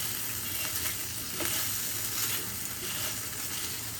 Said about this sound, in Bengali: টমেটো কেচাপটা দিয়ে আমি কিছুক্ষণ নেড়ে আবার একটু মাংসগুলো ভেজে নিব।